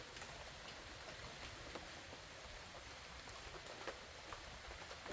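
Steady, dense rain patters continuously on the forest canopy overhead at Manoa Falls, Oahu, Hawaii, a soft even hiss with scattered louder drops, no voices.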